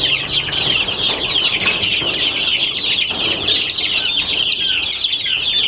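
Chicks about 22 to 23 days old keep up a continuous chorus of high peeping and soft clucking at close range, many birds calling over one another without pause.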